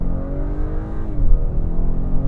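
A 2022 Acura RDX A-Spec Advanced with its 2-liter turbocharged engine pulls hard under acceleration, a loud, close, steady engine drone with a rising tone from inside the cabin, no talking.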